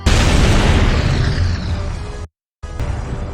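A space station explodes in a Jason Voorhees film, a loud, broad rumbling blast that decays over about two seconds before a sudden silence, then a quieter roaring tail resumes.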